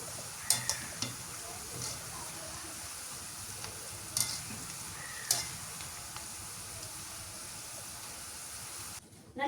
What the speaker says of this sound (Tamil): இதிலே நாங்கள் ஃபுல் சிக்கனையும் போட்டு ஃப்ரை பண்ணி எடுத்துக்கொள்வோம்